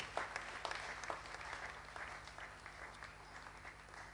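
A church congregation applauds during a service after birthday wishes for a member. The clapping is faint and distant, with a steady patter of many hands and a low hum underneath.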